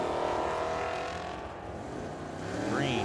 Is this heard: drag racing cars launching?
yes